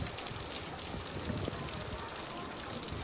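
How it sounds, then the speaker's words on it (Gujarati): Heavy unseasonal downpour over Dantiwada in Banaskantha, Gujarat, a dense, continuous hiss of rain that holds steady throughout, with no distinct thunderclap standing out. "વીજળીના કડાકા ભડાકા સાથે ધોધમાર વરસાદ વરસ્યો"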